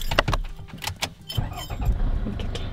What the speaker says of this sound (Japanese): ブレーキ踏みながらエンジンつけます。